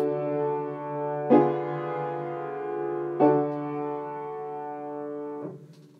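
A progression of diminished seventh chords, the fourth voice dropping to the fifth, played as sustained, organ-like harmonic tones with three clear chord changes at steady intervals, clean and alone with no voices.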